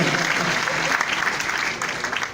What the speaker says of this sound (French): Applaudissez pour moi, hein